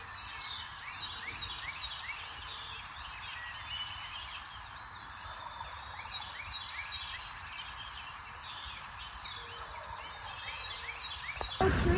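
Wild turkeys gobble repeatedly in a rural spot, the rapid rattling calls recurring again and again at moderate distance over a steady background hiss, with no talking.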